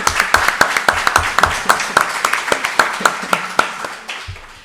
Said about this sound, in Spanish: le podemos dar un fuerte aplauso